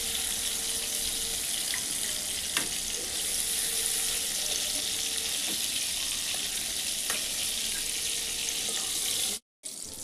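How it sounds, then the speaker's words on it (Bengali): Pumpkin pieces frying in oil in a pan, a dense, steady hiss of sizzling with a few faint clicks and one brief break near the end. "এই জন্য কুমড়োটা আমি ভেজে নিচ্ছি ভালো করে"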